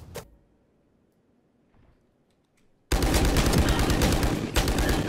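Gunfire in the tactical shooter Valorant: a single sharp shot at the start, near silence, then a loud sustained burst of rapid automatic fire that continues to the end.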